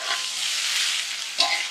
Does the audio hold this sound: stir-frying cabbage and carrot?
yes